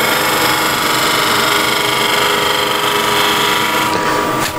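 Bowl gouge shear scraping the outside of a wooden bowl on a lathe, using the wing of the tool: a steady, loud, continuous rasping whir with the motor's hum, unbroken throughout and with no talk.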